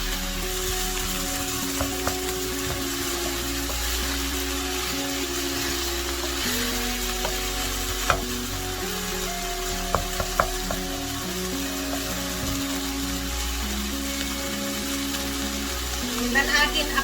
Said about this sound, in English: I'm going to fry that for about a minute.